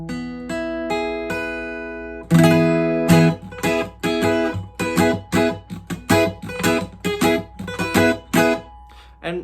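On an acoustic guitar, a chord with three notes barred under the ring finger is strummed and left ringing, followed by a steady run of rhythmic strums, close up with no voice.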